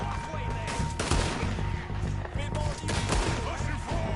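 Gunfire from a gang shootout in Red Dead Redemption rings out in repeated loud shots and bursts over a busy game soundscape, with voices shouting in the background.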